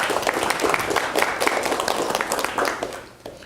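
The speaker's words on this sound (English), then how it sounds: "can we give him and C21U a round of applause," Audience at a book launch for an MIT Press title on blended learning claps steadily, a dense, moderately loud wash of many hands that carries on for several seconds before thinning toward the end.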